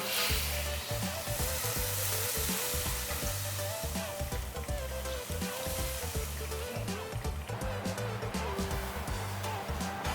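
Water is poured into blended spice paste frying in a pan, giving a steady loud sizzle and bubbling hiss with occasional stirring scrapes throughout, with no talk.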